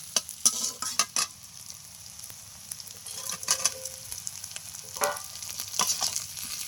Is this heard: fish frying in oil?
yes